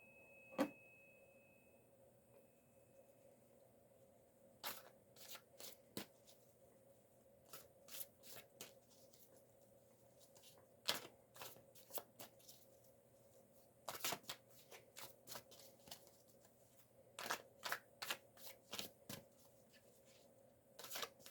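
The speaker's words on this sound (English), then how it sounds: "I will be quiet for a few seconds while I shuffle." Tarot cards being shuffled by hand in a quiet room, with repeated bursts of crisp riffling and flicking separated by short pauses, close and fairly soft, with no talking.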